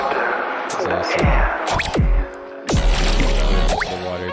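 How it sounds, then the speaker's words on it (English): A music track plays water drop and Foley samples. Several plopping drips with quick pitch sweeps fall in a loose rhythm over a dense, reverberant bass-heavy mix. "Just the water drop and the Foley samples."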